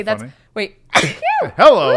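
One sudden, sharp sneeze bursts out in the middle of casual conversation, close and loud, with voices talking just before and right after it.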